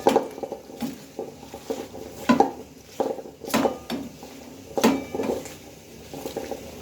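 Hands mixing morola fish with mustard oil and other ingredients for a spring onion leaf chorchori, giving close, repeated wet squishes and soft slaps in an irregular rhythm, with a few faint utensil clinks.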